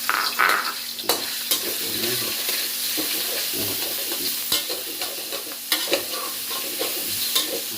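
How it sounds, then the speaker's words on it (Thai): Minced pork for pad kra pao is stir-fried in a hot pan with a loud, close sizzle and frequent sharp spatula scrapes and clacks. "ต้องคั่วเนื้อก่อนนะครับคั่วเนื้อก่อนนะครับ"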